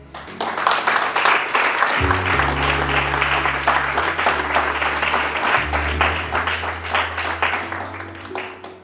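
Congregation at a church service applauding and cheering, dense sustained clapping throughout with an organ or keyboard chord sounding underneath.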